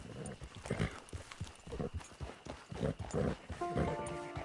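Horse hooves clip-clop in a rhythmic walking beat on the ground in Red Dead Redemption II, steady and fairly close, with a faint tonal game sound entering near the end.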